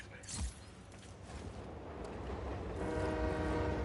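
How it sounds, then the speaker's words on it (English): A train rumbles past in the video game Just Cause 4, a horn blast near the start followed by a building roar and rolling rumble that grows louder toward the end. "Oh, here comes the train."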